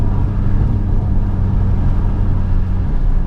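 A Subaru rally car's engine runs flat out at Goodwood Festival of Speed, a loud, steady low rumble heard from inside the car with no letup.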